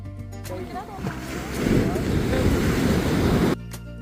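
Sea waves roll in at a beach on a rainy day, swelling into a loud, steady wash for a couple of seconds, with people talking nearby before and after.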